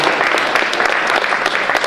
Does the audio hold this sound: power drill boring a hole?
no